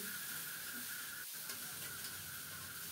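Eggplant with turmeric being sautéed in a pan, a steady hissing sizzle with a brief dip in the middle and faint stirring underneath.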